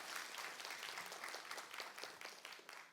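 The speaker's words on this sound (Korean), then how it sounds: "박수 한번 부탁드립니다." Audience applause at a university graduation ceremony and thanksgiving Mass, a steady dense patter of many hands clapping throughout, moderately distant and even.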